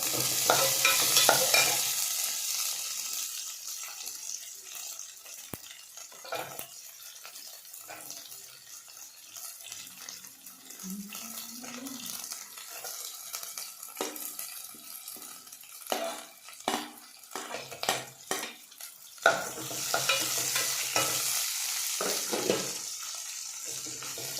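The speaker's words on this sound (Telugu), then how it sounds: "ఇది వేగిన తర్వాత ఆనియన్స్ వేసుకుంటున్నాను." Onions frying in a home kitchen pan give a steady, moderate sizzle with scattered scraping and stirring knocks, growing louder and brighter toward the end, with no talking.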